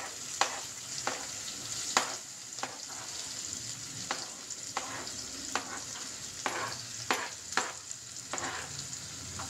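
Onion sautés in a pan with curry leaves, a steady sizzle punctuated by regular spatula scrapes and taps against the pan roughly every second, close and moderately loud, with no speech.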